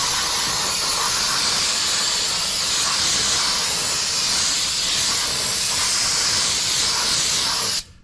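A steady, close hiss of aerosol brake cleaner sprayed onto the brakes of a Nissan Armada runs continuously for several seconds, then cuts off abruptly at the end.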